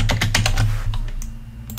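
Rapid keystrokes on a computer keyboard as a username and password are entered, a quick burst of close, crisp clicks that thins out toward the end.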